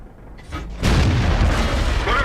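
A tank's main gun in World of Tanks fires at a KV-1, a single heavy boom bursting in after a short lead-in, followed by rumbling echo and debris noise.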